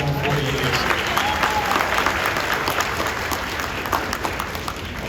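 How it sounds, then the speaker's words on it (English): Audience at a Surry, Virginia high school Class of 2022 graduation ceremony claps in a dense, steady round of applause that holds loud for several seconds, with a voice faintly audible underneath. "You give my grandmother a round of applause."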